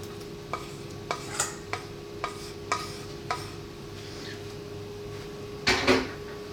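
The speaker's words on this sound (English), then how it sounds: "Let's run that through a sieve." Salmon curry sauce being worked through a sieve into a bowl, with a series of soft repeated scraping knocks at a steady pace, ending in a louder rustling clatter over a faint background hum.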